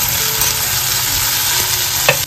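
Tomatoes go into a hot pan of onion and curry leaf tempering, raising a steady, close, loud frying sizzle with faint stirring scrapes throughout and no talking.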